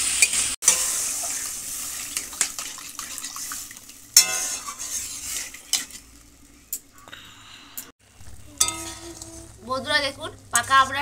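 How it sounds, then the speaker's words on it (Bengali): Shrimp and chanda fish stir-fried in a pan with mustard paste and ripe amra (hog plum) give a steady sizzle with scraping stirs throughout, close up, and a few louder clatters and a brief voice-like patch near the end. "সর্ষে বাটাটা দিয়ে আমড়ার সঙ্গে ভালো করে মাছটা কষিয়ে নেব"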